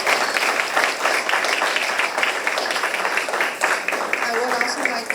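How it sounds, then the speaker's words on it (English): An audience at a school literacy night breaks into dense, sustained clapping, loud and close throughout, with a few voices mixed into the applause. "let's give him a big applause to Mr. Luis Cifuentes"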